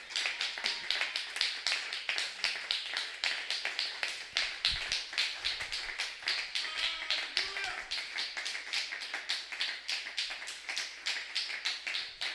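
A church congregation applauds for the Lord with rapid, steady clapping that carries on throughout. Voices speak faintly beneath it partway through.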